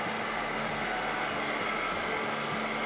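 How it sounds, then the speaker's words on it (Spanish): A hair dryer blows steadily on diluted orange paint for a mixed-media piece, a constant loud airy whoosh with a low motor hum and no pauses. "Vamos a aguarlo un poco y vamos a darle con el secador"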